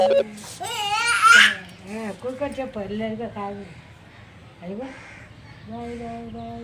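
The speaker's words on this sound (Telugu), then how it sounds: "అదిగో కాకిలు కాకిలు" Several crows caw in loud, hoarse repeated calls, close by, mixed with people talking and excited voices nearby.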